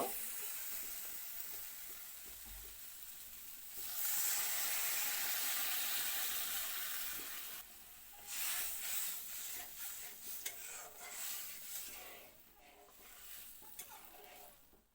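Water poured into mustard masala frying in a pan for a Bengali jute-leaf dish, setting off a loud burst of sizzling and steam that settles into softer bubbling, with stirring scrapes toward the end.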